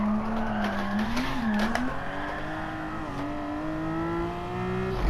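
Car tires squealing while drifting on grippy tires in Gran Turismo 7, a steady high tire whine over a humming engine whose pitch rises and dips as the car slides through the turn.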